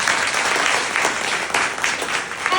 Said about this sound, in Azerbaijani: Özümüzü gəlin bir möhkəm alqışlayaq.